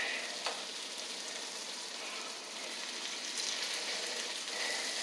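Potatoes fry in a pan with a soft, continuous sizzle and crackle, quiet and steady throughout.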